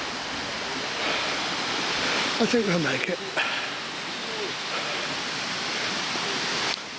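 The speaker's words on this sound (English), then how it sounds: "I wonder if this waterfall's got a name." A waterfall rushing in the Brendon Hills, West Somerset, a loud continuous broadband roar filling the whole clip, with someone briefly speaking over it midway.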